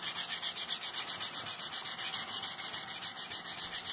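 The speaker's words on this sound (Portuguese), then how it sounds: "Lixa a pecinha" Sanding a small wooden piece by hand after filling a hole with sealer-based filler, a close, steady back-and-forth scratching in an even rhythm of about seven strokes per second, alone without talk.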